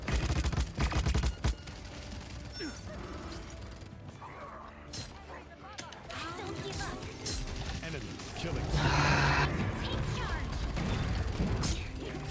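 Rapid gunfire in the video game Paladins: a dense run of sharp shots and metallic mechanical clicks, sometimes in quick bursts, with a voice talking over the action.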